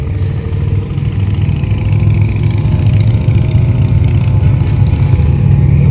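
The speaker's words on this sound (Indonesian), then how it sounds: "Ya, kita lihat motor nih." Motorcycles ride along a winding hillside road on the slopes of Gunung Tilu, with a steady mid-pitched engine drone that holds loud and continuous throughout, with no talk.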